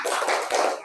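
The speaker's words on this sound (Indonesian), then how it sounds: "Tepuk semangat." A short burst of rhythmic classroom spirit clapping, the tepuk semangat, with hands tapping quickly together in a close, bright patter that lasts under a second.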